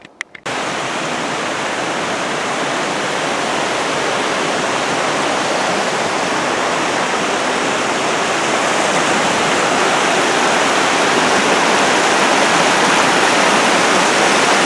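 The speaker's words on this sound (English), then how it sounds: "crossing Crystal Creek" Crystal Creek at Mt. Rainier rushing past, a loud, close, constant roar of tumbling water that holds steady after a brief thump at the start, with no voices.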